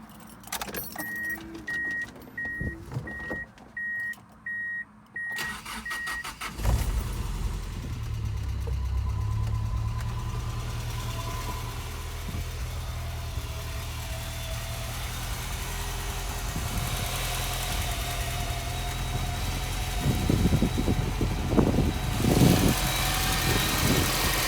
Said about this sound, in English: I can basically turn the car on, which I'll do right now.